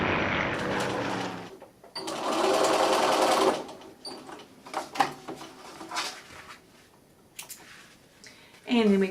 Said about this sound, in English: we're going to stitch the other side, the folded side